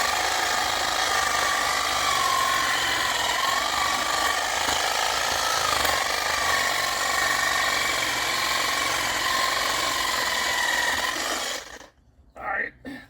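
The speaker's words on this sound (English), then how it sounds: "I've got my wood cutting pruning blade on." A power tool fitted with a wood-cutting pruning blade whines steadily as it cuts into an old crape myrtle stump outdoors, running loud and continuous with a slight wavering pitch before cutting off abruptly near the end.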